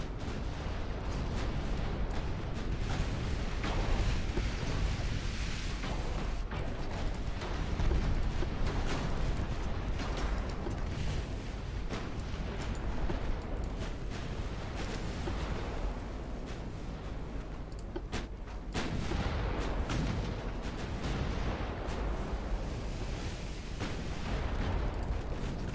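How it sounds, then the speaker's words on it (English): In Ultimate Admiral Dreadnoughts, an enemy battleship line opens fire with heavy naval guns: a sustained, rumbling stretch of booming salvos and crackling blasts, fairly loud and continuous, swelling and easing with no voices over it. "There comes the fire from the enemy battleship line."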